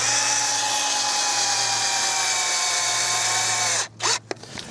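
Power drill driving a screw through wooden lath into a high tunnel rib, a loud steady whine running about four seconds before stopping, followed by a couple of short bursts.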